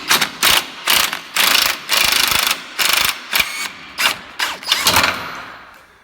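A jack raises a Ford E350 van with a run of loud, close ratcheting clicks in short rhythmic bursts, each pump stroke separated by brief pauses, slowing near the end.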